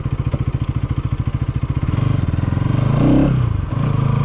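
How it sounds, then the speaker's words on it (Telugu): A Bajaj Pulsar NS 200 motorcycle downshifting through its gears: a steady, close engine thrum that thickens, swells into a brief rev blip and then settles back to a lower beat. "గేర్లు డౌన్ చేస్తున్నాను."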